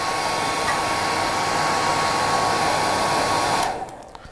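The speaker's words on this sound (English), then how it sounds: "I'll blow it through with the hairdryer so you can see the movement." A hairdryer blows steadily through a freshly tied Skykomish Sunrise spey fly, a loud continuous whooshing whine close to the mic that cuts off abruptly near the end.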